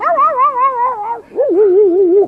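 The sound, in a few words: voice imitating a dog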